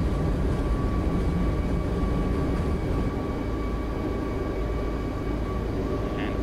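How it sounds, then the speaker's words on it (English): Boeing 737 MAX 8 engines roar at high thrust through a long takeoff run, simulated in Prepar3D v5.4 for a TUIfly departure from Dusseldorf; a steady, loud broadband rumble with a constant whine continues throughout without pause. "Long takeoff run here."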